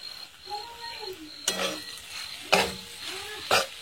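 Egg bhurji with coriander and dried kasuri methi being sautéed in a pan: a spatula scrapes and stirs in a few distinct strokes over a soft background sizzle, close and moderately quiet.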